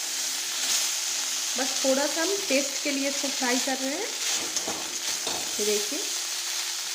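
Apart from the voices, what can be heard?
chana dal frying in a pan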